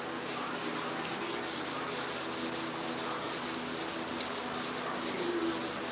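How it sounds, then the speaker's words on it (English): Steady abrasive rubbing of sandpaper across the sheet-metal cab of a 1968 Chevrolet C10 fleetside truck, previously sanded at 400 grit, a close, continuous scratchy hiss with faint back-and-forth pulses. "this thing was already sanded in 400, but it's been setting for a little bit, so I'm just opening it back up"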